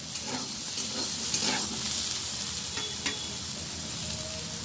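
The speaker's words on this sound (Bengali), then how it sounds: "আমি এবারে সবজিগুলো ভালোভাবে ভেজে নেব।" Cut vegetables fry in a hot pan, filling the space with a continuous close sizzle and hiss broken by occasional stirring clatters, with no talking.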